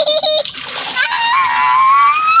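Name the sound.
water splashing while bathing a child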